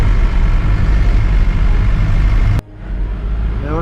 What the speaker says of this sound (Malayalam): സ്കൂൾ വണ്ടിട്ടാ.